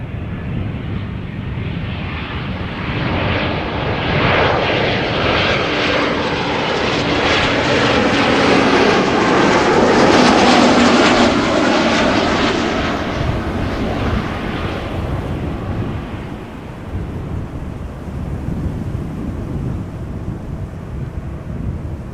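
An Embraer 190 jet, thirteen years old, arriving from Berlin, roars loud and close with steady engine noise that swells toward the middle and slowly fades, with no talk over it.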